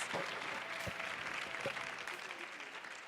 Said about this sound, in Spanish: un fortísimo, fortísimo aplauso para Patricia Araque